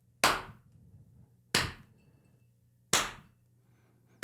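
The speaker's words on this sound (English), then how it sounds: "It's the slow clap." A single pair of hands gives a slow clap, three sharp, loud claps spaced evenly about a second and a half apart, with near silence between them and a fourth just starting at the end.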